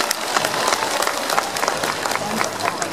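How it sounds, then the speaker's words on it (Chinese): Audience applauding at a martial arts show in Xiangxi after a balancing act with a big blade, steady dense clapping from a crowd, fairly loud and continuous. "朋友们掌声再次鼓励"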